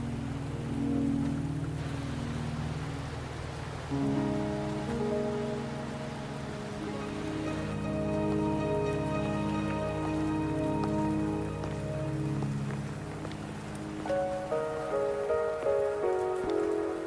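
Steady rain pattering on surfaces in the video game Wuthering Waves, a continuous wash of drops under soft game music with sustained tones, no voices.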